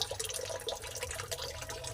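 Mountain spring water runs steadily with a bright, splashing rush, close by and constant, with no voices.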